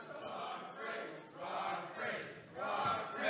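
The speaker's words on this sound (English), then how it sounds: "I hear a weak attempt at a Rock Bridge chant" A crowd at a Hickman versus Battle exhibition match in 2017 chants "Rock Bridge" in a rough, rising-and-falling rhythm, fairly distant and thin, with swells of massed voices.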